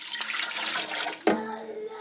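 Water pours in a steady splashing stream for bagel dough made in a 3-pound bread machine, with a brief clunk partway through as the flow continues.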